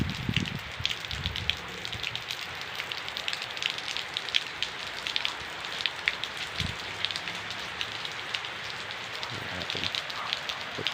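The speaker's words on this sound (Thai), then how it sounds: "ชุ่มฉ่ำเสียงฝนโปรยปลาย" Steady rain patters on a surface in Bua Chet district, Surin, Thailand, near a rubber plantation, with dense, continuous hiss and scattered heavier drops, close by and unbroken throughout.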